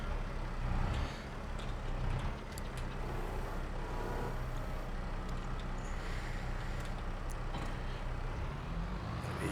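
A front loader tractor in a farming video game drives toward a shed, a steady loud engine drone with a low rumble and faint higher clanks, heard alone without talk.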